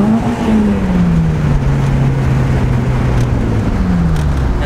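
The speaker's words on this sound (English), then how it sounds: "is what you call a riser flyby on that M3" A BMW M3 sweeps past with a rising then falling engine note, a loud close revving flyby over steady road roar at a car meet.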